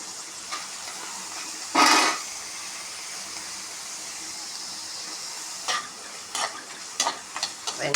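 Onions sizzle steadily in hot oil with a constant hiss, broken by a few sharp clatters of stirring.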